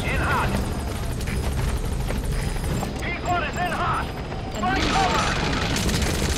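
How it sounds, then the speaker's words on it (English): A support helicopter arrives in the video game Metal Gear Solid V, its rotor thrumming steadily beneath game voices and music, with a louder swell of noise near the end. "Support helicopter has arrived."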